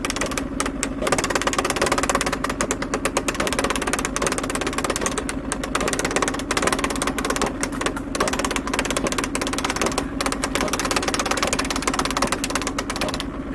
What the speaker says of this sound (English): I'm going to keep embossing, but I'm actually going to stop it.